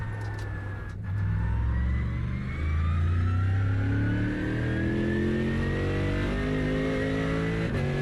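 A car engine revs and climbs through gears in the iRacing simulation game, with rising engine tones and a sustained high tire squeal, loud and continuous with no talk.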